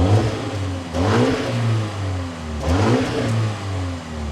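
A 2026 Mini JCW Countryman engine fires up with two rising revs, then settles into a steady idle. The sound is close and loud, with no talking.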